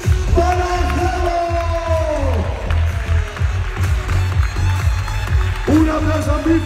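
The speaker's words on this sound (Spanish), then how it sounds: "Un aplauso muy fuerte para primer premio de Zorro Urbano Tricking 2020" A crowd at an urban tricking competition final in 2020 applauds and cheers for the winner, a loud dense wash of clapping and shouts with whoops rising over it, continuous throughout.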